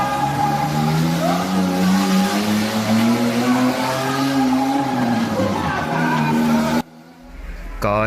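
A stripped-down car with only a single seat, an engine and a bare body circles inside a well of death, its engine droning loud and steady with tire noise for about seven seconds before cutting away to a brief quieter stretch.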